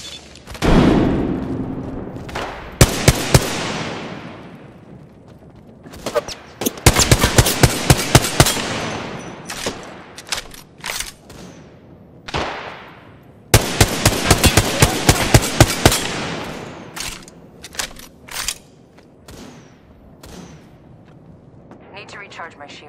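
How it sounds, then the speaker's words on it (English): Gunfire aimed at the player in Apex Legends arrives as rapid bursts of automatic weapon shots in clustered volleys, loud and close, interspersed with single cracks and booms, while people talk over it. "I am taking fire, friends."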